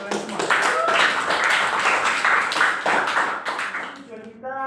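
Classroom applause from students clapping hands together, a dense steady patter of many claps lasting several seconds, fairly loud, fading toward the end as a voice begins talking.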